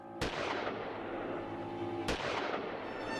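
Two sharp gunshot cracks, far apart and loud, ring out over a constant low rumble in a Colombian documentary about the 1948 assassination of Jorge Eliécer Gaitán, with no talk between them.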